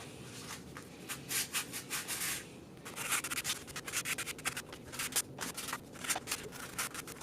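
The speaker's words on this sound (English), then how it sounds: "this time I'm gonna go in with the fine sander actually and just smooth it out" Fine sanding on cosplay horns, quiet close rhythmic scratchy strokes in short bursts with brief pauses between them, heard alone.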